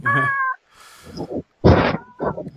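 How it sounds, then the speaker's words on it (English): A house cat meows indoors several times close by, a drawn-out tonal cry followed by shorter, rougher meows with brief pauses between them. "Sorry, I forgot to close my door, and now my cat's in here."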